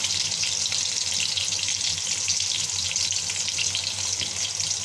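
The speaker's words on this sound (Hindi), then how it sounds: "हम अभी और 2 से 3 मिनट फ्राई करेंगे।" Kofte deep-frying in a pan of oil make a continuous, dense sizzle with bubbling crackle throughout. It is close, steady and even, with no voices.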